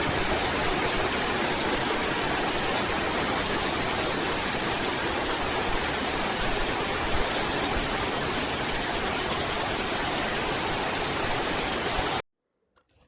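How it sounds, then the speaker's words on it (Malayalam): Heavy rain pours down in a dense, constant roar for about twelve seconds, then stops abruptly, leaving near silence. "പുറത്തുതാ നല്ല മഴ പെയ്തുകൊണ്ട് നിൽക്കുകയാണേ"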